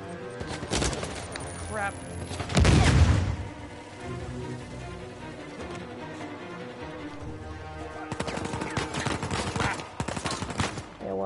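Gunfire bursts in the video game Uncharted: A Thief's End, a loud volley near the start and denser shots toward the end, with game music and a player's voice speaking over it.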